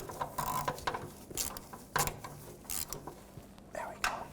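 Hose clamps being tightened on the rear fuel tank of a 2008-2010 Ford F-450 Super Duty: soft, close ratcheting clicks and small metallic taps come in scattered bursts over a quiet garage background.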